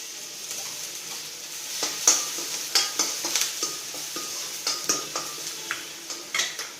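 Garlic frying in two tablespoons of oil in a pan for pasta toppings: a steady bright sizzle close by, with repeated light tapping and scraping of a utensil against the pan.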